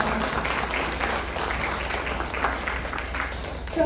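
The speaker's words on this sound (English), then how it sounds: "can we give Magda one last round of applause?" A round of audience applause follows a talk on deep-sea exploration aboard the E/V Nautilus, a steady wash of clapping at moderate level lasting the whole stretch.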